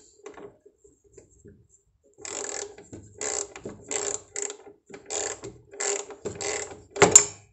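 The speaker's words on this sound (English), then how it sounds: "I'm just getting the last bolt in on this belly pan." A ratchet tightening the last bolt on a Kawasaki Ninja motorcycle belly pan, giving several close, crisp bursts of rapid clicking separated by short pauses, with a faint knock at the start and a sharper clack at the end.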